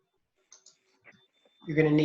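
Mouse clicks on a computer during a Zoom class meeting, two or three faint, brief taps spaced apart in a quiet room, followed by a louder burst of sound at the end.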